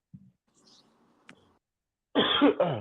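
A loud, harsh cough bursts out twice in quick succession after a near-silent stretch with a few faint small noises.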